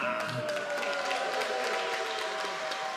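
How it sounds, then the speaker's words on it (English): Applause from the crowd for a fighter at an LFL cage fight event, a steady wash of clapping throughout, partly under an announcer's amplified voice. "And a big applause for Robbie Kemna."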